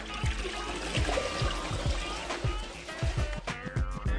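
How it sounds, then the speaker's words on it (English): An ultra-high efficiency toilet flushes a 500-gram load of miso paste, giving a rushing, gurgling swirl of water with repeated sloshing pulses, close and moderately loud throughout. "Now I'll flush the toilet."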